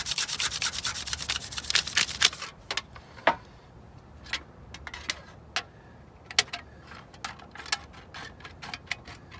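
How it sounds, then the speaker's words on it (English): A Scotch-Brite pad rubs over a flat aluminum sheet, a close continuous scrubbing burst at first, then sharp intermittent scratchy strokes at an uneven rhythm. "I'm just going to take a Scotch-Brite pad and kind of polish it up"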